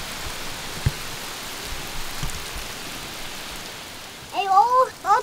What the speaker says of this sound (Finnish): Sataa kyllä niin kovaa, katso vaikka.